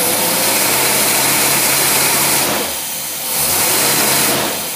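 Engine on a dynamometer fed by a Rochester dual jet carburetor, revving hard and loud at close range with a steady roar that briefly dips and then climbs again.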